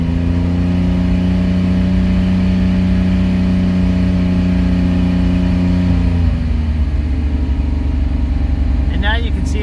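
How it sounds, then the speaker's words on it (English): The 1985 Pontiac Fiero engine holds a steady, raised drone, then its pitch shifts and settles lower near the end, heard close and loud. "So we'll give it some RPM, and it doesn't budge."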